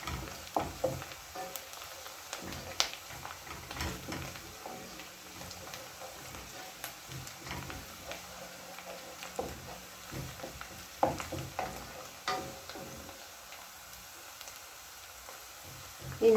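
Beef pilau with onions and cardamom in a sufuria, sizzling quietly while being stirred; faint steady frying hiss with soft irregular scraping strokes close by.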